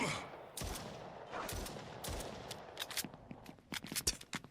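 Pistol shots in a video game arena fight, a string of sharp separate cracks coming faster and closer together toward the end, over a steady low background of game noise.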